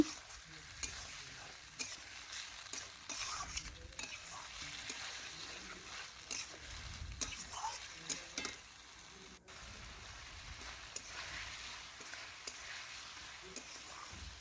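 Chicken frying in a pan while being stirred, giving a faint, continuous low sizzle with occasional soft scrapes, quiet and a little distant throughout.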